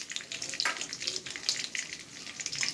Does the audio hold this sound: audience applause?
no